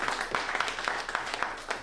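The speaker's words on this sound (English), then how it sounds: "give a big round of applause for all the stuff here at Folk Point" An audience at the Folk Point folk music event claps for the festival staff, a fairly faint, steady patter of many hands at a distance with a few louder claps standing out.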